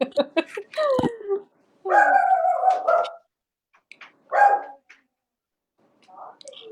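A pet dog barks, yips and whimpers indoors in short bursts separated by quiet gaps, reacting to people plowing snow outside, loud and close with no talk over it.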